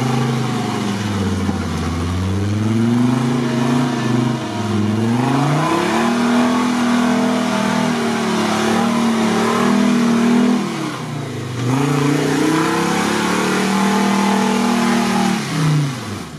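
A GAZ-69 off-road vehicle fitted with a Mercedes engine pulls away and accelerates. The engine note rises and falls through several revving surges, loud and close throughout.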